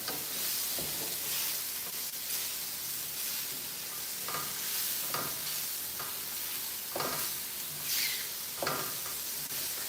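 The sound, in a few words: mushrooms frying in a pan for English breakfast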